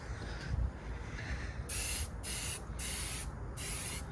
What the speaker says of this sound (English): You literally just spray it on there